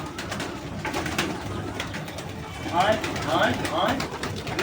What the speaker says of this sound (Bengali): আগে তো পায়রাগুলো পুরো উড়লো পুরো ধুলো উড়িয়ে নিয়ে গেল